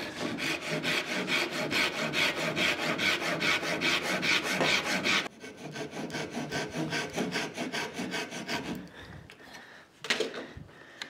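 Small wood pieces are hand-sawn for a no-glue book rack, steady back-and-forth rasping strokes running loud and continuous, then a second stretch of strokes with a different tone, tapering off near the end.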